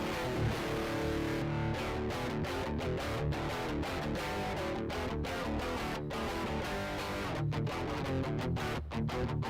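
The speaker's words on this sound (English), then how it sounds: "And you put a bit of distortion on it." Electric guitar chords played with heavy distortion, a dense, continuous, loud rock-metal wall of sound with rhythmic chord changes and brief choppy breaks, no voice.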